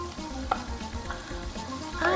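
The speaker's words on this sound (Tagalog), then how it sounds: "Kapag nag-caramelize na ang bawang, sibuyas at kamatis, isasama na sa gisa ang inadobong laman loob" Marinated pork innards are being sautéed with caramelized garlic, onion and tomato, giving a steady close sizzle and frying crackle with a few stirring scrapes and a brighter clink near the start.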